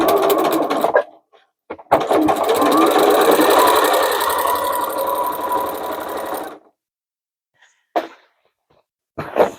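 Sewing machine stitching a denim tote bag in one long, steady, close run of several seconds, followed by silence with a few brief handling noises and no talk.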